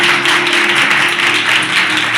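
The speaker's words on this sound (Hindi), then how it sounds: "उसके लिए जोरदार तालियां।" Congregation at a Christmas church service clapping together, a dense steady burst of applause filling the room, loud and continuous for the whole stretch.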